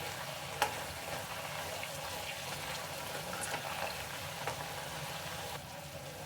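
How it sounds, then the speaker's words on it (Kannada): Drumstick leaves frying in a pan for chutney, a steady gentle sizzle with an occasional light tap of a spoon against the pan. "ಅಲ್ಲಿವರೆಗೂ ಸ್ವಲ್ಪ ಹಾಗೆ ಫ್ರೈ ಮಾಡ್ಕೊಳ್ಳಿ."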